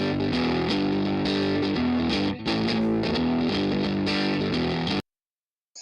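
Heavily distorted, saturated music playing loudly with a gritty, clipped tone, briefly dipping before cutting off abruptly into silence.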